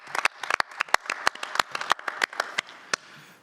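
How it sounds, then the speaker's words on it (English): A small group at a board meeting gives a round of applause, sparse, distinct hand claps close by that thin out and stop after about three seconds. "I would suggest a round of applause for all of those folks"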